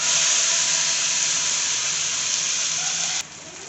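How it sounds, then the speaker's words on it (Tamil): Loud, steady sizzling hiss of chayote chutney poured into hot oil in a pan, close up, easing slightly at the end. "இப்போ சட்னி அதில் ஊற்றிக்கலாம்"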